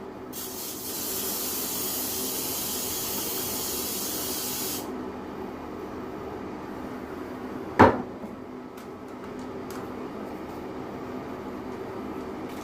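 Aerosol spray hisses loudly into the air in one continuous burst of about four seconds, then stops; a sharp clatter follows shortly after, with a low room hum throughout and no talking.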